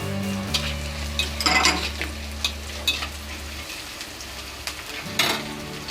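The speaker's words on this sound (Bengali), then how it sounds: "মশলাগুলো ভালোভাবে আমি একটু কষে নেব একটু ফোড়ন দিয়ে দিলাম" Panch phoron and other spices sizzle in a hot pan while greens are being cooked with a hilsa fish head. A steady frying hiss runs under a low tonal hum, with a few louder scraping stirs.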